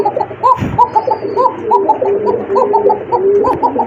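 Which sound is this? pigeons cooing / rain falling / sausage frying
pigeons cooing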